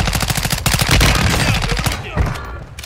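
Rapid bursts of gunfire in Call of Duty Warzone on Ashika Island, loud and close, a fast rattling string of shots that pauses briefly before a final shot, with faint voices in the background.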